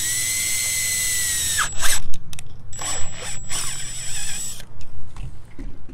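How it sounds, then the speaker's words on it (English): An electric drill whines at high speed, then bites into a cut rain gutter piece with grinding bursts, stopping and starting several times, close by. "drill your hole"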